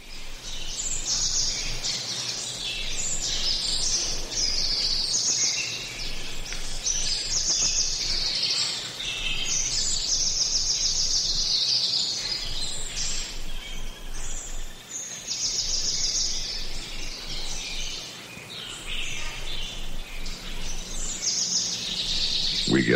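Birds sing and chirp continuously outdoors, several overlapping calls and trills at a steady moderate loudness with a faint insect or cricket hum underneath; no talking. Played on WREK radio in Atlanta.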